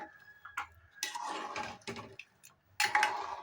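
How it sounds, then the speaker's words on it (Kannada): Milk with jaggery being stirred in a pot while making ginnu sweet, giving light scraping and clinking knocks in irregular bursts, with quiet gaps between strokes. "ಹಾಲಿಗೆ ಬೆಲ್ಲ ಹಾಕಿದ್ಮೇಲೆ ಈ ಥರ ಮಿಕ್ಸ್ ಮಾಡ್ತಾ ಇರ್ಬೇಕಿದು"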